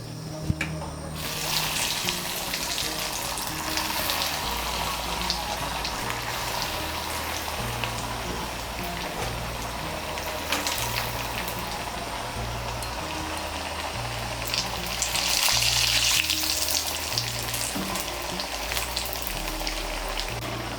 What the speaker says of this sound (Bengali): এর মধ্যে আমি কাটলেটগুলো ভেজে নেব।